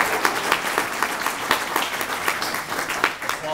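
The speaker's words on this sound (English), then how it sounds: "Applause signs are lit" Live audience applause at a THATCamp podcast recording, a full, even wash of many people clapping nearby, continuing steadily for several seconds without pause.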